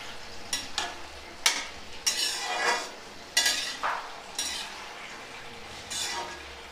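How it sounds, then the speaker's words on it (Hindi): Pumpkin sabzi being stirred in a pan with a spoon, producing a series of scraping, clinking strokes over a soft sizzle, irregular and fairly close, with no talking. "इसको हम चलाएंगे।"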